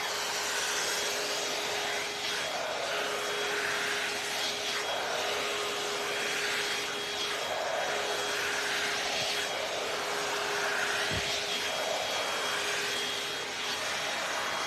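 A L'ange AIRess hot air brush blows steadily as it dries hair, a constant whooshing hum that runs unbroken and close throughout, with faint brushing movements under it.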